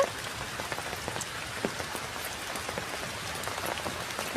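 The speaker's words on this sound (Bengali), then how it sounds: "আজকে ভোর থেকেই মানে অনেক বৃষ্টি হচ্ছে" Heavy rain pours steadily, a dense, even patter of drops drumming on surfaces nearby with no voices, continuous throughout.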